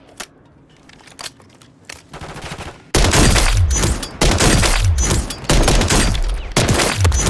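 Jak Volkh weapon gunfire in Call of Duty Modern Warfare III: a quieter opening gives way to loud, close, rapid bursts of shots fired in quick runs with brief gaps.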